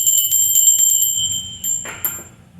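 A notification bell sound effect rings out in bright, shimmering tones, with a rapid run of chimes followed by a couple of separate strikes near the end.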